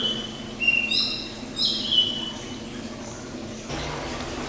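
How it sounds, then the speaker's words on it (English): Several birds in a zoo aviary chirp and whistle in short bright bursts, fairly close, over a low hum of room noise. "me and Molly and a whole bunch of birds in here, and they're just flying around"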